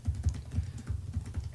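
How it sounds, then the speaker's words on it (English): Computer keyboard keys clicking in steady typing, a run of close, crisp taps at an irregular quick rhythm with no voices. "As you hear my like computer like keys, clicking."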